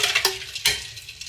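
A spoon stirs sweet tea in a container for a Christmas candy bar cake, giving two quick, sharp clinks against the side amid soft swishing, close and with no voices.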